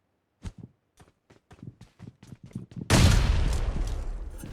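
Video game gunfire in PUBG: a run of sharp, separate shots about every quarter second, then a loud grenade explosion with a long, noisy rumbling tail.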